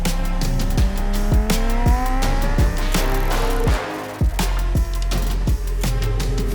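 A Lamborghini Huracan Tecnica on a race track, its engine screaming through rapid upshifts and downshifts with repeated gear-change cracks, loud and close, with a brief dip mid-lap.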